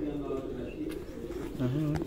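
Breeding pigeons in a loft setup coo nearby, several overlapping throaty, rolling calls running continuously over a busy background murmur.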